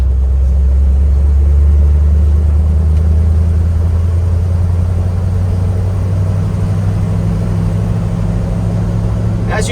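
A 1972 Ford F-250 Ranger 4x4 pickup with a four-speed manual pulls along in fourth gear at about 25 mph, its engine a steady, loud low rumble heard from inside the cab with no talk.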